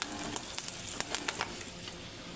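Curry leaves and turmeric fry in hot oil for a tempering, a quiet steady sizzle with small crackling pops scattered through the first half.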